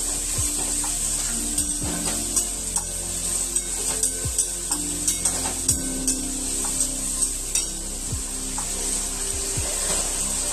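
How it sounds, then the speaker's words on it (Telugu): Chicken liver frying in a pan, a steady bright sizzle broken by regular scraping clicks of a spatula stirring the pieces, close and without speech. "చక్కగా ఇలా ఫ్రై చేసుకోండి"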